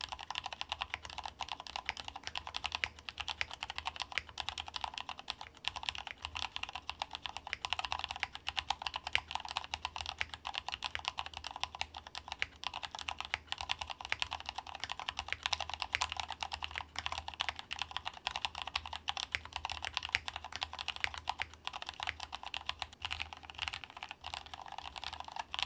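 Steady, rapid typing on a Cherry MX 3.1 mechanical keyboard with MX2A red linear switches: dense, continuous key clatter, close-miked and even, with no talking.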